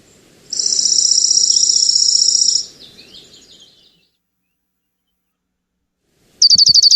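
Junco calls from a female and a male: a rapid, bright, high trill of about two seconds, then a shorter sharp trill starting near the end after a silent gap.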